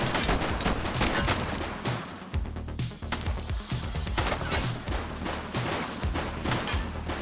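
Dense, sustained gunfire from The Precinct video game, with overlapping rapid shots and bursts forming a loud, continuous barrage throughout, like a firefight with automatic weapons.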